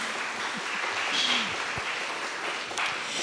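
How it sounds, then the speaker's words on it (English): Scattered applause from a small audience at an online panel event on distributed IG models, a steady soft patter of clapping lasting a few seconds with no voices. "Yes, applause."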